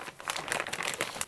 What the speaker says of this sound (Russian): Открываем готовый пакетик